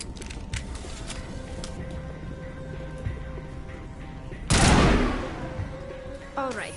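Shotgun and assault rifle fire in a sci-fi shooter video game: a steady mechanical rattle, then one loud blast that decays over a second, followed by a further sharp report near the end.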